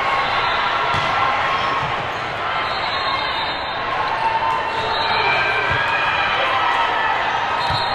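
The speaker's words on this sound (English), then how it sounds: "So all that cheering you guys are doing" A crowd cheers and claps during a club volleyball match between Fight Club VB and Club North at a Power League round, a continuous loud roar filling the gym with scattered thumps beneath.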